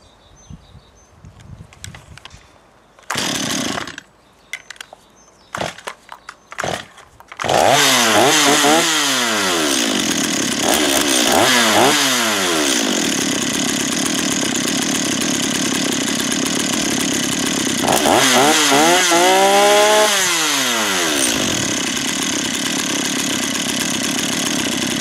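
A chainsaw engine, its carburettor idle screw just adjusted, sputters through a few short bursts, then catches and runs loudly up close, with repeated revving surges rising and falling over a steady idle.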